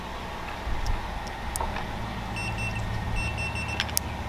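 Short electronic confirmation beeps from a Latch It latch being installed on an RV door, repeating in small clusters over a low room hum.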